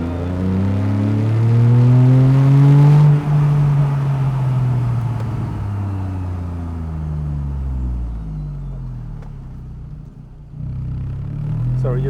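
A naturally aspirated Porsche 911 Carrera 4S of the 991.1 generation launches and accelerates, its engine note rising loudly through the gears in sweeping climbs heard from inside the car, with a voice talking over it.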